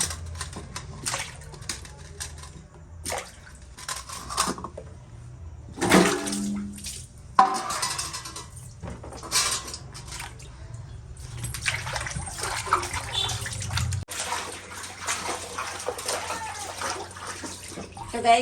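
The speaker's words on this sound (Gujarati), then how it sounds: "સરસ ચોખ્ખા પાણીમાં આપણે ગાજર ધોઈ દઈશું" Freshly picked, sandy farm carrots are washed by hand in clean water, giving intermittent splashes and sloshing bursts with short quieter pauses between them, up close.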